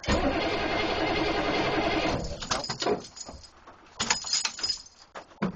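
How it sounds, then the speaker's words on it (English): Diesel engine with glow plugs cranking on a cold start, a loud steady starter grind for about two seconds without catching, followed by scattered clicks, rattles and brief bursts of noise. "I think it's cranking good. It just needs more glow plug."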